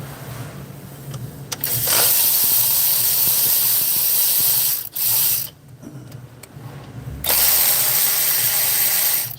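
Ratcheting on E8 Torx bolts that hold down the oil cooler on a 2021 Jeep Cherokee 3.2L, bursts of loud, close mechanical clicking with brief pauses between turns.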